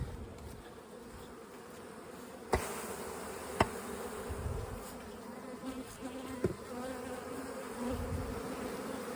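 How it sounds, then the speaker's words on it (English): Young honeybees buzz steadily around a hive at close range, a continuous insect drone with a few sharp knocks and clicks, no voices. "there's a lot of young bees here"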